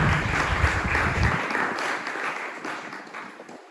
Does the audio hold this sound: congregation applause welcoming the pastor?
yes